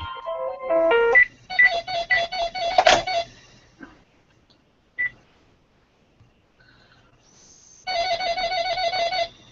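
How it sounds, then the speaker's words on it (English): A phone gives off a string of electronic ringing and beeping tones, first rapid stepped beeps, then a patterned ringtone, a short blip, quiet gaps, and a final burst of repeating tones, fairly close and clear. "Phone's making all kinds of cool noises."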